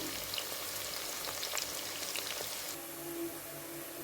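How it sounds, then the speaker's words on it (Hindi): Onions browning in half a cup of hot oil, a dense, steady sizzle and crackle of frying with small pops, close and continuous throughout. "आधा कप ऑयल में हम इस प्याज को ब्राउन करते हैं"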